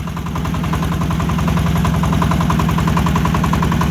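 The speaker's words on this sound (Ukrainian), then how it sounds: "Отаким от чином керується трактор. Доволі легко обертається кермо." A Kentavr 160V motor tractor, converted from a walk-behind tractor, runs steadily with a loud, even, rhythmic engine chug while being steered, with no talking.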